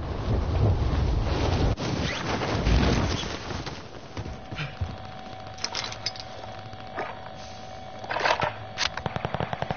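Video game gunfire: dense bursts of rapid shots early on, then scattered single cracks and a closing string of quick shots, over wind-like noise.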